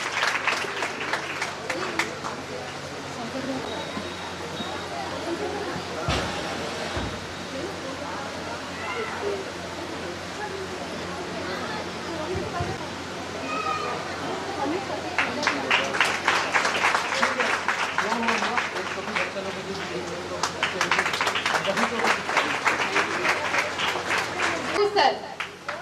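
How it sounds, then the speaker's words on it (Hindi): Audience at an annual school function clapping, a dense wash of applause that swells loudly in two long stretches, with a voice speaking over the crowd in between. "Give a big clap."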